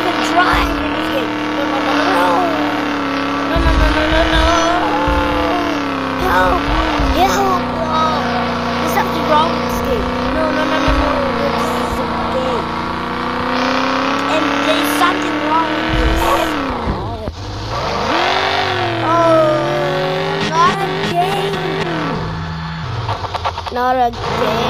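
A car engine revving and driving in a video game with rough rocky terrain, a continuous varying engine drone with pitch rises and drops throughout, under near-constant talking.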